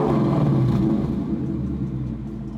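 A 2018-2023 Ford Mustang with a Borla stainless steel Active ATAK cat-back exhaust set to normal mode gives a deep, steady rumbling rev that eases off slightly, close and alone without talk.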